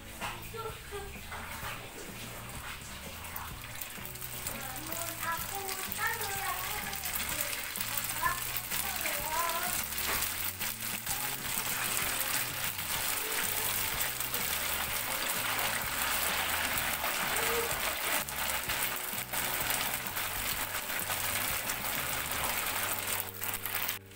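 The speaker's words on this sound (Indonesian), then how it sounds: "ini minyaknya sudah panas, langsung aja kita goreng pempeknya ya" Pempek fish cakes fry in hot oil with a continuous crackling sizzle that grows denser over time, while a person talks intermittently over it.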